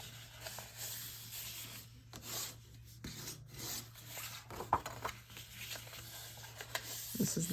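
A tool burnishes score lines on cardstock with soft, dry rubbing strokes in short uneven passes, quiet and close, over a low steady hum.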